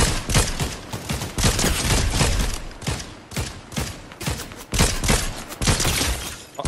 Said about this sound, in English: It's a lot of gunfire over here.